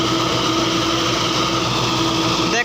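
Mahindra 655 tractor engine running at a steady idle, a continuous close mechanical hum with a faint tonal drone and a small click near the end.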